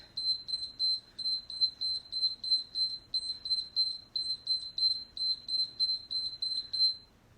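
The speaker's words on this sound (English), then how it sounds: "As soon as this timer finishes beeping," A workout interval timer beeps in a fast, steady series of short high electronic tones, about two dozen evenly spaced beeps over several seconds, clear and close with no talking.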